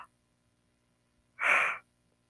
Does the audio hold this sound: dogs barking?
no